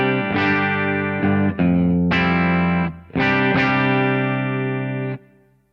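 Guitar played through a Thorpy FX Warthog distortion pedal with both gain knobs turned fully down, giving a mild driven tone; a handful of sustained chords strummed close and loud, ringing out at the end, no voices.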